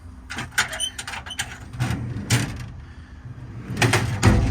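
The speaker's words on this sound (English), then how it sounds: "All the doors close, latch, lock, and seal as they should" Several mechanical clunks and metallic latch clicks in succession, bin doors on a 2015 Ford F550 utility truck bed shutting and catching, fairly close with some background rattle.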